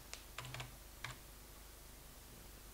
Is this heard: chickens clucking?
no